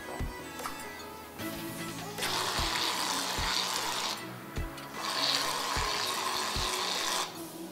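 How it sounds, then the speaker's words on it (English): A cranberry colada cocktail is poured into a cup, giving a splashing liquid stream with rattling, clinking bursts in two main pours separated by a brief pause, close and moderately loud with no talk. "Hopefully pour this into this cup."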